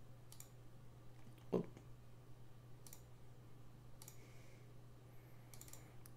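Computer mouse clicks and light keyboard taps come faint and scattered over a low electrical hum, with one sharper click standing out; no voices.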